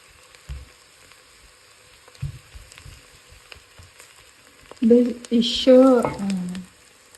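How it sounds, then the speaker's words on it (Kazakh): Onion sizzles in oil in a pan, making a faint continuous crackle in the background with a few clicks and knocks of cookware, while someone speaks over it toward the end. "Мен осылай май құйып, одан кейін бір пиязды салып қойдым. Бұл қуырылсын жақсылап."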